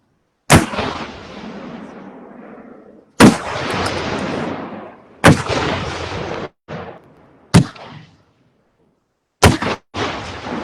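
A cannon battery at an American Revolution reenactment fires a running volley, five loud booms in sequence, each with a long rumbling decay before the next shot.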